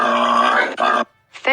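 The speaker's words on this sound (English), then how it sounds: "Boar." A boar gives a loud, rough grunt lasting about a second, followed by a short pause and the start of another harsh grunt, close and alone.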